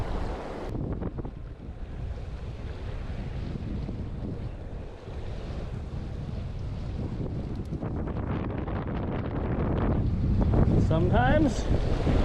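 Strong wind buffets the microphone during fly fishing, a continuous loud rumbling roar with gusts that swell toward the end, and faint indistinct sounds mixed beneath.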